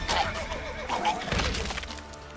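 Roach, Geralt's mare in The Witcher 3, neighing with a loud, wavering whinny close up over hoof clatter and background game sounds.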